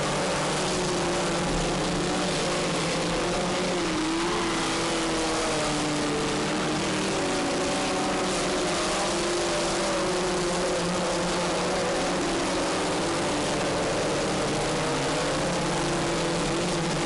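Race cars at a New England racing event roar around the track in a steady, dense engine drone that stays loud and unbroken from start to finish, with no talk.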